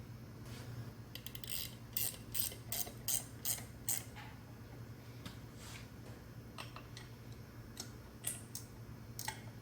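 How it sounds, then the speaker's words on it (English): Bolts being put into an NP205 transfer case on a 1972 GMC Jimmy: a quiet run of sharp metallic ticks and clicks in uneven bursts, like a ratchet working, over low steady background hum. "I'm just putting 2 bolts in here to get this thing put in place"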